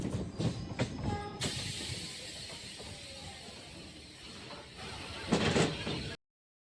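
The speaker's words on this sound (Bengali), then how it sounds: "ট্রেনটাও ছেড়ে দিয়েছে। সে চলেছে তার গন্তব্য স্টেশন শিয়ালদার দিকে।" A moving local train on its way to Sealdah station gives a steady rumbling, hissing roar with a few brief clanks near the start and a louder surge near the end, heard from close by without talk.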